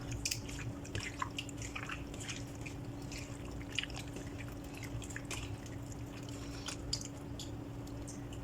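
Raw beef tossed by hand in a marinade with oyster sauce, giving a steady stream of soft, wet squishing and dripping sounds close by, with no talking.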